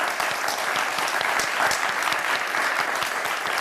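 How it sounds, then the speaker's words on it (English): Audience at the close of a Talk Vietnam TV talk show applauding, a dense, steady burst of clapping from a studio crowd lasting several seconds, with no talking over it. "Please give us a round of applause."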